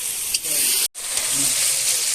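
Loud sizzling and hissing as chicken goes into a hot wok, briefly cut off in a sudden silence, then resuming strong and steady.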